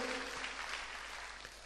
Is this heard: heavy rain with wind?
no